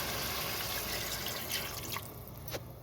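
Water is poured steadily into a pressure cooker of chicken with a continuous splashing hiss, ending in a few drips. No speech.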